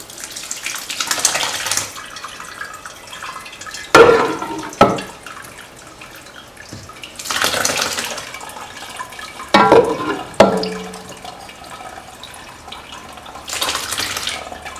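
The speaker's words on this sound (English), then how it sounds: "Make sure whatever you're straining into is big enough to hold all the liquid" Liquid pours through a strainer and splashes in several bursts, with quiet pauses between them and a few sharp clinks of metal or glass.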